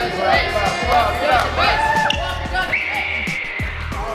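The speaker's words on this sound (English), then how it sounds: "Come on, a little bit of crowd noise." Basketball bouncing repeatedly in a steady rhythm on a court during shooting practice, loud and close, with a crowd's murmur and chatter running underneath throughout.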